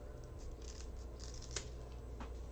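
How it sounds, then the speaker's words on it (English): Scissors snip through a plastic zip tie holding a wreath frame, giving a few quiet, sharp cuts over a steady low room hum. "I simply take my scissors and cut it off."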